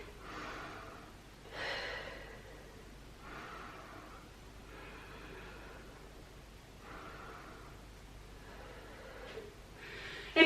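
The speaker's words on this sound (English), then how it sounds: "Nice deep breaths" Heavy, deep breathing after an intermediate legs-and-core workout round, several slow rhythmic inhales and exhales with audible gasps and snorts, close and fairly quiet, with no talking.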